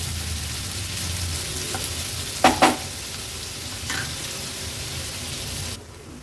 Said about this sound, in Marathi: कांदा थोडासा तेलावर परतून गॅसची फ्लेम लो करायची आहे आणि लो फ्लेमवर कांदा शिजवून घ्यायचा आहे